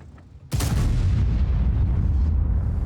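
A single loud tank cannon shot from an E100 in World of Tanks, a sharp close blast followed by a long booming rumble that fills the rest of the moment.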